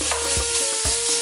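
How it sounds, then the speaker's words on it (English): Sliced sirloin steak searing in a hot pot makes a loud, close, steady sizzle, with two quick scraping stirs during the short burst. "now that the pot is nice and hot, we're gonna drop the steak in there and let it sear"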